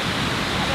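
A giant waterfall beside a golf course hole, a steady broadband roar of rushing water, loud and close, with voices faintly mixed in.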